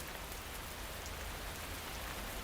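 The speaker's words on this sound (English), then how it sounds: "The rain moves on after just a few minutes." Rain falls in an African wildlife setting, a quiet, uniform wash of drops on the ground and foliage that continues unbroken, distant and soft.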